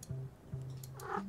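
A cartoon cat purrs in the puzzle game Little To The Left, a low steady rumble that comes in two long stretches, with a brief higher chirp near the end.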